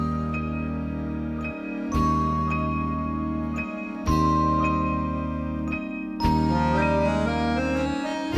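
Intro of a 1982 schlager song, without drums or bass: bright tinkling keyboard or chime notes over sustained organ-like chords, repeating in even phrases with regular chord changes, clear and alone with no voices.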